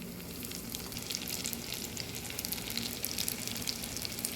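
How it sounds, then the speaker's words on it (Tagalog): Tuna lumpia Shanghai deep-frying in hot oil, a steady, dense crackling sizzle holding an even level throughout with no voices. "So, ipiprito na natin siya."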